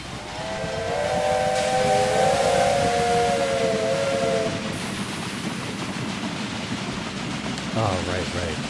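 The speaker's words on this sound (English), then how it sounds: "And that train, I think, is heading off to New York right there" A train departs in the railway game Railway Empire 2, with a loud wailing steam whistle over a rumbling roar that gradually settles into steady rolling noise, ending in a short chime.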